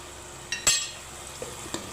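Spice masala of coriander and cumin powder frying in a pan for a chicken curry, a soft steady sizzle with a few brief clinks and scrapes of stirring.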